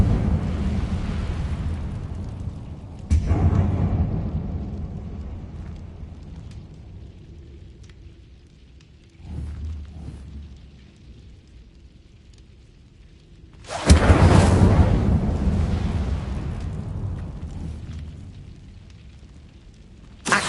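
Fiery Incendio spell blasts from Hogwarts Legacy: a loud burst opens, a sharper whoosh-boom hits near 3 seconds, a smaller one around 9 seconds, and the biggest roaring blast lands at 14 seconds before fading, with no talk.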